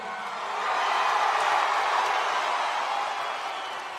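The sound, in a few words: energetic crowd at WWE SmackDown arena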